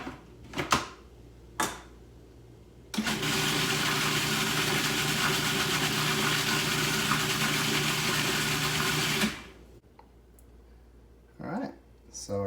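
Food processor whirring steadily for about six seconds as it blends fresh basil into a vegan homemade pesto, a loud even motor run framed by brief knocks and quiet gaps before and after.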